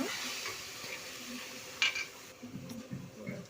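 Precooked moth beans tipped into a pan of crackling cumin tempering, a steady soft sizzle with a brief clink and stirring scrapes toward the end, close and moderately quiet, with no voices.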